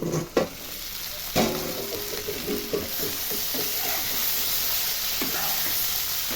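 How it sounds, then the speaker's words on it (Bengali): Green tomatoes and small chingri shrimp fry in oil in an uncovered pan with a steady sizzle and crackle. A few sharp stirring knocks and scrapes come early on. No one speaks. "ভাজা হয়ে যাচ্ছে"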